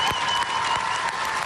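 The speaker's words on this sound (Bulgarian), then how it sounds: "Аплодисменти за Наско." Studio audience applause on the X Factor talent show, a brief, steady burst of many hands clapping at even loudness, without speech.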